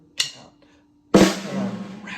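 Two drum flams from a Star Wars drum part, each a sharp doubled snare-style hit separated by a rest; the second rings out longer and louder, played close and alone.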